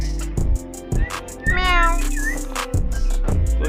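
A kitten meows close by, giving a few short calls and one longer, drawn-out mew in the middle, with no talk.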